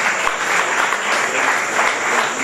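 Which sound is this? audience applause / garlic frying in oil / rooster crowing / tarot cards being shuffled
audience applause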